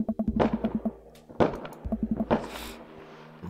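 Fireworks in the dating video game Dream Daddy, heard as a series of dull thumping booms in uneven clusters, with rapid popping bursts and a crackling tail.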